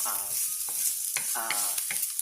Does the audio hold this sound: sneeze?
no